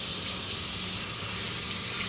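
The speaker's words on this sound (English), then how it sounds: "Get water. Turn on the pipe." Tap water runs in a steady, close gush into a sink as a child washes their hands.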